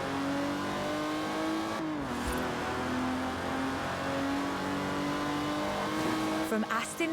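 A car engine in Forza Horizon 4 holds a loud, steady drone, its pitch dipping once as it shifts and then climbing again, with a brief tire squeal and a voice talking over it.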